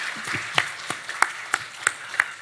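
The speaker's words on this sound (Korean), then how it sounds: "우리 박수로 한번 환영하겠습니다" A church congregation at a Sunday service claps to welcome newly registered members. The clapping is light and sparse, with a few distinct claps standing out over a soft background, and lasts only a couple of seconds.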